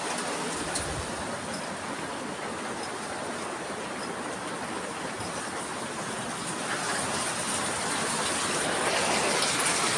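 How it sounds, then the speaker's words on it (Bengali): Heavy rain falls outside in a steady, dense broadband wash, continuous and fairly loud throughout, swelling slightly toward the end with no voices. "বাইরেও প্রচণ্ডভাবে বৃষ্টি হচ্ছে,"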